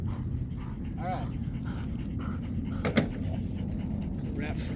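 A working dog panting during a training exercise, a quick, rhythmic series of breaths close by, with a trainer's voice and some soft whimpers heard over it.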